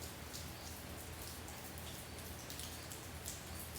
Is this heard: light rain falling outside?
yes